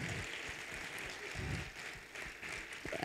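Steady applause from a book presentation audience at the Guadalajara book fair, a broad wash of many hands clapping, somewhat distant and even, with a few louder bursts.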